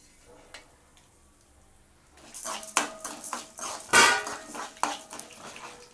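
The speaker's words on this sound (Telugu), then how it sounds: "దోరగా వేయించుకుందాం." Toor dal and spices frying in a pan: after a quiet start, a spoon clatters and scrapes against the metal pan in a burst of irregular knocks and clinks, close and fairly loud.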